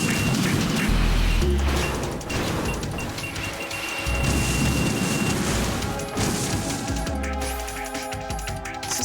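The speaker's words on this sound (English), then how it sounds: "Oh, I think there's missiles coming." Missiles explode in Metal Gear Solid 2 as a string of loud, rumbling booms and crashes, heavy low-end blasts rolling over a dense, noisy game mix with no pauses.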